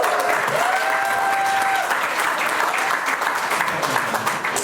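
A round of applause from an audience in a meeting room at a community meet-up, dense steady clapping filling the whole stretch with a few whistle-like tones early on.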